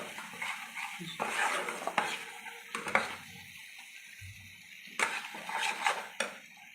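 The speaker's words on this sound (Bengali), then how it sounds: "সব দেওয়ার পরে ভালো করে মশলা দিয়ে একসঙ্গে কষিয়ে নেব" Chicken with green chillies and spices sautéed in a pan, bursts of spatula scraping and stirring alternating with quieter sizzling pauses, close and moderately loud, with a few sharp knocks against the pan.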